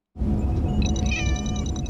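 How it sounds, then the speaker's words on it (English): Orange cat meowing, a drawn-out vocal cry with rising harmonics, close and clear against a low background hum, starting abruptly after a moment of silence. "He has an orange kitty."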